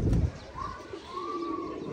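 Pigeons cooing at a pigeon club loft, soft rolling coos repeating close by after a brief low thump, with light background noise and no speech.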